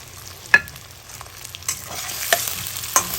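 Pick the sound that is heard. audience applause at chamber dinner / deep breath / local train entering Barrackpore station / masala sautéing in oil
masala sautéing in oil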